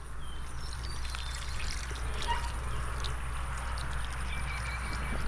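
Water draining through a siphon hose, a steady continuous trickle and gurgle with faint bubbling, even in loudness throughout and with no talking.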